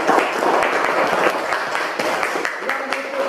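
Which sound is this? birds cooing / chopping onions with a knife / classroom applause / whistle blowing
classroom applause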